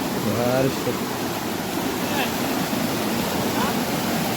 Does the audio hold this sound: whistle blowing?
no